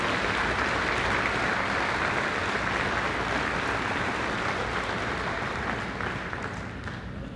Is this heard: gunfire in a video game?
no